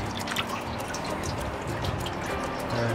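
Engine oil draining from a BMW turbo into a catch container, a steady liquid trickle with small drips over a low background hum, continuous and fairly faint with no talk.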